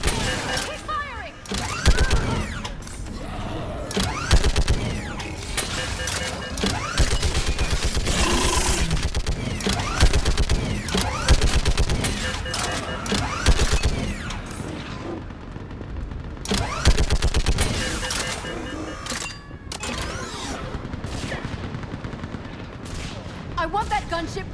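Sustained gunfire in the Mass Effect 3 video game during a battle, with dense, loud volleys of rapid shots, booms and clattering impacts throughout, while voices shout orders over the fighting.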